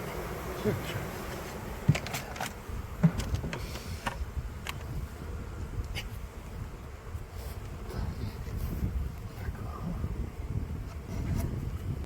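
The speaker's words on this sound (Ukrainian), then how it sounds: "Скільки, скільки бджіл сюди перелізло" Honey bees hum around an open hive during a spring inspection, a continuous close buzzing drone with occasional faint knocks and handling sounds, steady throughout.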